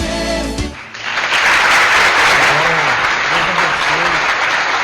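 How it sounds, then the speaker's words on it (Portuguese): A church congregation applauds the birthday celebrants, a broad, even wash of many hands that swells after a brief moment of voices and music and keeps going loudly. "Cadê as palmas dos aniversariantes?"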